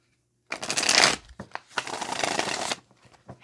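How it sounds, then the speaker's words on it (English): A deck of cards riffles in two quick shuffles, each a loud, close crackling burst lasting about a second, with no talk over them. "One more shuffle."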